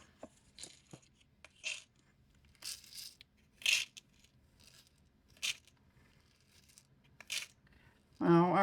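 Small plastic scoop dipping into a tray of sparkly craft beads, giving a string of brief, soft scratchy rattles spaced about a second apart in a quiet room.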